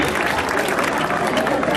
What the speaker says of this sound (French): On l'applaudit très très très fort.